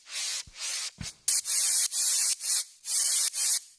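Synthesized white-noise layer in an Ableton Live remake of David Guetta, Martin Garrix and Brooks' "Like I Do", loud hissing bursts gated on and off in a choppy rhythm with a couple of low thumps early on.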